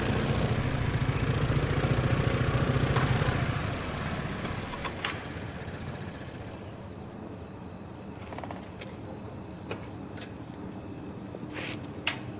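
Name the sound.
motorcycle engine idling, film sound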